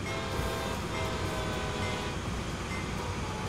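Freight train rolling steadily in a train simulator on a mountain line, a dense continuous rumble and rattle of wheels and wagons at constant loudness with no talk.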